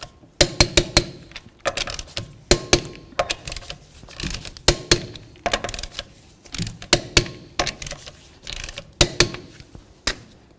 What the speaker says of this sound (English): Now we can get the wheel back on the ground and torque it to 81 foot-pounds.